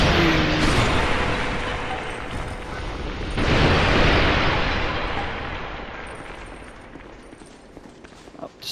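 Spell bomb explosions in Dark Souls 2 go off as loud booming bursts, with a big blast near the start and another swell midway, then a long rumbling fade to near quiet, no talk.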